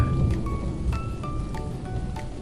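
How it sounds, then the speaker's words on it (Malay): Rain falls during a windy storm, a steady patter with soft rumbling and a few faint tonal chimes over it, moderate and continuous with no talk. "Hujan ngau ribut."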